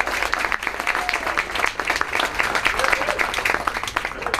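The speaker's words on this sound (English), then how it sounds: "Let's give them a round of applause." An audience at a historic house tour claps in steady, dense applause lasting several seconds, with voices mixed into the crowd noise.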